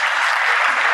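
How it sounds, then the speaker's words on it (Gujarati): An audience at a Swaminarayan religious discourse claps in a dense, loud, continuous burst of applause. "જરા આપણે તાળીથી વધાવીએ તો ખરા"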